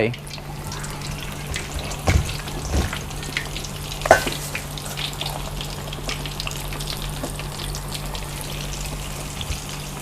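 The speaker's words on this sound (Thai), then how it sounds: "ตั้งกระทะไว้แล้วน้ำมันร้อนแล้วใช้ไฟกลางในการทอด ใส่ลงไปได้เลยครับ" Steady frying sizzle of chicken wings in hot oil over medium heat, a continuous crackling hiss with a few clinks and splashes, no voices.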